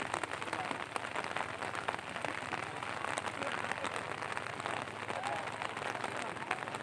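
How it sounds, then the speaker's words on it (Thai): Heavy rain pours down during a cast-net fishing trip in a summer storm, a dense continuous hiss with crackling drops that stays steady and fairly loud throughout. "ฝนปะทะเสี้ยนแห"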